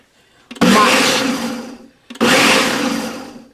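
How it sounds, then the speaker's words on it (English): A Ninja blender with a center spindle of three S blades whirs through eggs in two loud bursts, each roughly a second and a half, separated by a brief pause. "this Ninja blender has a center spindle that has 3 S blades on it"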